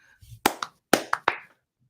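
Two sharp hand claps, close and loud, spaced about half a second apart, followed by a few quicker slaps, with a murmur of a voice before them, for a Blue Jays podcast sign-off.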